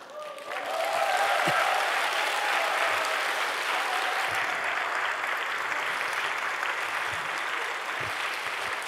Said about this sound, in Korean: 박수 소리가 큰 분을 하나님께서 축복하시겠습니까?